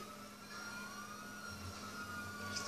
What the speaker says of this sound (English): turn off your sirens